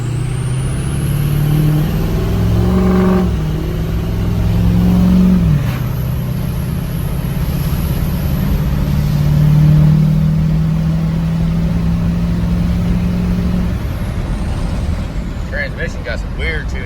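A Powerstroke diesel truck with a fuel delivery issue and odd transmission tuning accelerates hard and loud, engine roaring and climbing while the tires break loose, the revs shifting partway through.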